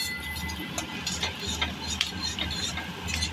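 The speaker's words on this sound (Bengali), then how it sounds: "দেখো, হাই ফ্লেমে আমি পেঁয়াজ ভেজে নিয়েছি, মশলাগুলোও মিশে গেছে" Onions and spices frying on high flame for a mutton dish, a continuous close sizzle with occasional scraping and clinking as the mixture is stirred in the pan, no talk.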